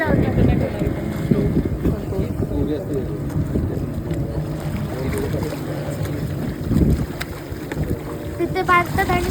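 A parasailing boat running on the sea: a steady engine drone with water rush and wind buffeting the microphone, while people talk over it.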